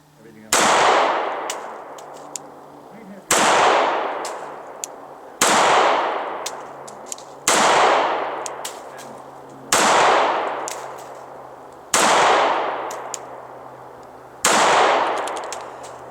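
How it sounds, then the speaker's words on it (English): A Sig Sauer P938 pistol with a rubber grip fired at a range, seven loud, sharp shots spaced a couple of seconds apart, each ringing out and fading, with no talk between them. "Very comfortable gun to shoot."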